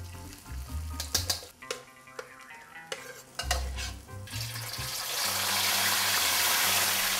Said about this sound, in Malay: Masakan saya yang kedua iaitu nasi goreng Ahmad.